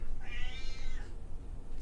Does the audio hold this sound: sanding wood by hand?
no